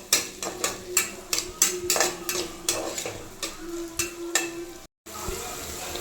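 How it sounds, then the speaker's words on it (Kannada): Tomato, onions and chillies fry in oil in a pan, a steady sizzle broken by repeated rhythmic clacks of a spoon stirring, close and moderately loud, with a brief silent gap near the end. "ಇದನ್ನೆಲ್ಲ ಫ್ರೈ ಮಾಡ್ಕೊಳ್ಳಿ ಎಣ್ಣೆಲಿ ಒಂದು ಫೈವ್ ಮಿನಿಟ್ಸ್"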